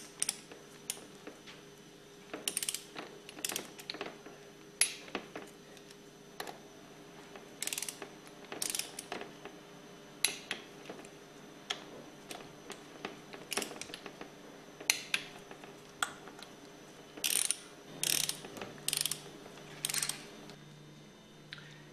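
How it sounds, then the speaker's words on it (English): Ratchet wrench tightening the head bolts on a Hypro diaphragm pump, close, crisp bursts of clicking pawl strokes repeated in short runs with brief pauses, alone over a faint steady hum. "Take this longer bolt, tighten that down. Torque the head bolts to 175 inch-pounds in a crisscross pattern"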